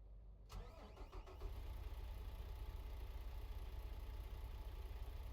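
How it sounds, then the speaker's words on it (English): A video game truck's stock engine rumbles to life and settles into a steady, loud, low idle that continues without a break, with no voices. "stock engine sound, not bad"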